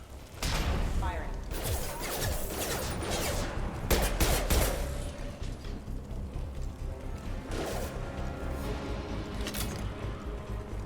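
Gunfire from security mechs in the Mass Effect 2 video game: dense, sustained bursts of shots and impacts running through the whole stretch, with a loud cluster near the middle, mixed with game sounds and speech.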